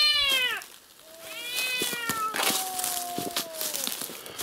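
A cat meows several times, close and clear, with drawn-out rising and falling calls and some faint background noise.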